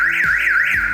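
A car backup horn or siren alarm accessory gives a loud, close electronic warble, its pitch sweeping up and down in quick repeated cycles about three times across one second, with no talking.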